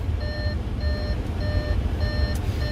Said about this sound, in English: it's basically warning you that your ignition is still on, so not to leave the car running when you leave